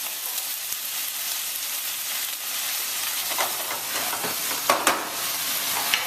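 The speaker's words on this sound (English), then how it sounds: "a teaspoon of honey over the veg. And really start to caramelise the vegetables." Vegetables caramelising with a teaspoon of honey in a hot pan give off a continuous bright hiss and sizzle, with sharper spitting bursts and stirring scrapes building toward the end, close and fairly loud.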